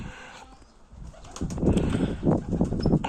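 Quiet ambience gives way to a burst of wings flapping as several sport pigeons flutter down close by to scattered feed, in rapid overlapping beats.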